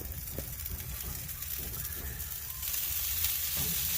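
Pork butt being basted sizzles on a smoker, a soft continuous crackle with faint brushing and a slight rise in level partway through.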